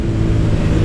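A Honda Titan 160 motorcycle fitted with an air filter revs through its exhaust, giving a close, loud, steady low rumble for under a second.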